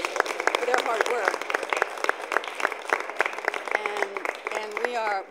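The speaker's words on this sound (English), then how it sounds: "we want to give them a round of applause for their hard work" A crowd at a Women's History Month kickoff event applauds steadily, dense continuous clapping with voices murmuring and cheering underneath.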